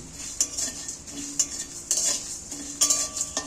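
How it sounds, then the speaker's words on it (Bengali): Whole spices dry-roasted in a wok without oil, stirred with a metal spoon that clinks and scrapes in quick repeated strokes over a faint dry rustle, no talk. "এইটা শুকনো খোলায় ভালো করে নাড়াচাড়া করে একটু"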